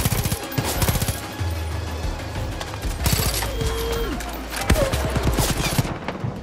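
Rapid bursts of gunfire from a small-magazine gun in the video game Far Cry 5, repeated volleys with brief pauses for reloading, loud and close with a voice talking at times over the shooting.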